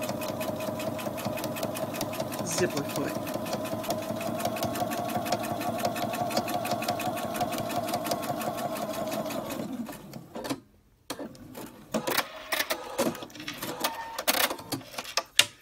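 A sewing machine stitches steadily along zipper teeth in a fast, rapid whir for about ten seconds, then stops; brief clicks and handling noises follow, with a few spoken words.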